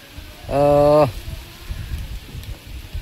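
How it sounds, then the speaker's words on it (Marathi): Rain falls steadily on trees and leaves near Korle village in the Konkan during Ganesh immersion day. A soft, constant patter runs throughout, and a loud, brief horn-like tone rises and fades early on. "तर समोर दिसतंय बघा पाऊस."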